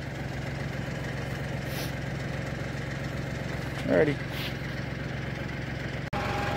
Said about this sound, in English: really for this tractor, the engine isn't so bad even at full throttle or whatever